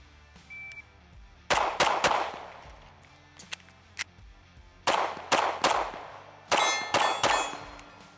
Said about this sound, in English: I'll do 3 rounds on the second target, and then I'll do 3 rounds on the steel.